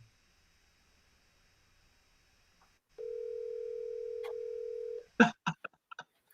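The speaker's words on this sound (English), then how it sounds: "I'll give it one more ring because I'm not going to let it go to voicemail" An outgoing telephone call plays a single steady ringing tone of about two seconds, clear and alone, followed by a few short clicks and bursts of the line.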